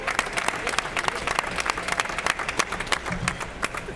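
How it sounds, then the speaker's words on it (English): A round of applause for a LEGO builder at a building competition finale: scattered, fairly quiet clapping from a small group, steady across the moment with loose irregular claps. "Let's get a round of applause for him"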